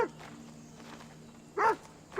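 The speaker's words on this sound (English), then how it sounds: "I really don't want to hurt that dog." In Assassin's Creed Odyssey, a dog gives short, fairly faint barks, two quick bursts near the end, separated by a stretch of quiet game ambience.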